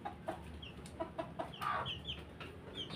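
A mother hen and her chicks, kept as free-range fowl, make soft clucks and scattered high peeps in short irregular bursts, faint and close, with no talk over them.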